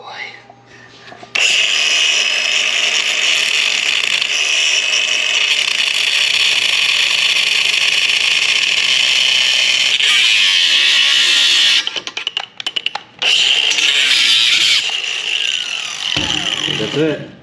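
A power tool cuts and widens the transmission tunnel hole in an S13 Nissan 240SX convertible, a steady loud whine running for about ten seconds, then breaking into short bursts before trailing off.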